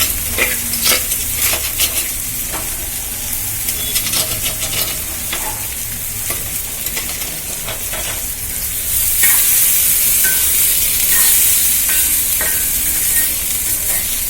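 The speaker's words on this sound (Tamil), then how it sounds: "நான் இப்போ மொச்சை தூக்கி அதில் போடுறேன்." Green field beans (pachai mochai) sizzle steadily in a pan for sundal, with repeated scraping stir strokes and a louder hiss in the final stretch.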